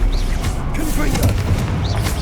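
Casting the Confringo explosive spell in the video game Hogwarts Legacy gives a loud, dense booming burst with crackling blasts that fill the whole moment.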